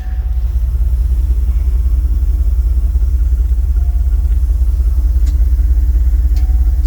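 A 1985 Rolls Royce Corniche sits idling, its engine a steady, quiet low rumble that holds evenly throughout with no revving and no voices.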